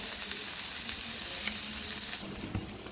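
Onion frying in a pan for a Maharashtrian home meal, a steady close sizzle with light crackles and a faint stirring scrape, easing slightly near the end, with no talk.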